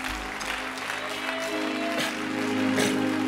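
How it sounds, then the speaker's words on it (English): Church congregation clapping hands in praise during a worship celebration, steady dense clapping throughout with music or voices humming underneath, moderately loud and close. "Clap your hands unto Jesus."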